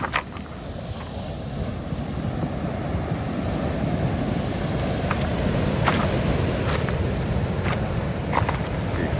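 Ocean surf breaks and washes continuously on a beach near Ensenada, Baja California, a steady loud roar with wind buffeting the microphone throughout.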